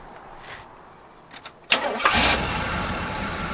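An old muscle car that sat in storage for 33 years, running on 30-year-old gas, cranks with a few short starter bursts, then catches and settles into a steady, even idle close to the microphone.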